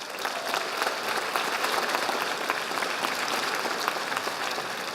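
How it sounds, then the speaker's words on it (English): Crowd applause for graduates at a community college commencement ceremony, a broad, continuous roar of many hands clapping at an even level throughout. "we should give them collectively a round of applause"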